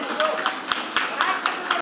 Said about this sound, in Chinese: 掌声啊！